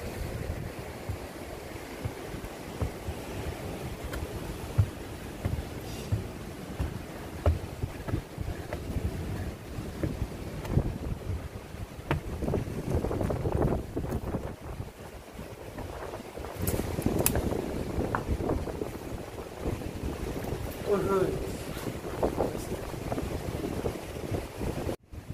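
Wind gusting by the sea at a Korean harbour in the rain, a steady rumbling buffet against the microphone with scattered spatters and gusts throughout, no voices.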